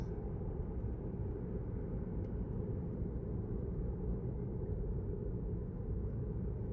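Steady low rumble of a car descending a mountain road, heard from inside the cabin, with constant engine and road noise and no talking.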